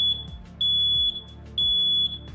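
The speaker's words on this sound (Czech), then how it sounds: "Pro včasné odhalení požáru existuje autonomní hlásič požáru." A standalone home smoke detector sounds its alarm, sharp high-pitched electronic beeps in a regular pulsing pattern of three long tones, loud and close.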